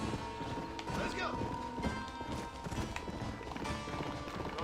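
Horse hooves clopping at a run in the video game Red Dead Redemption, a rhythmic patter of hoofbeats set within game music and ambience, continuing steadily throughout.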